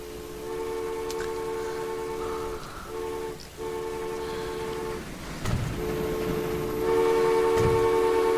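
Trains run in the Transport Fever video game with a steady rumble and sustained horn tones that break off briefly twice, then return and swell louder near the end.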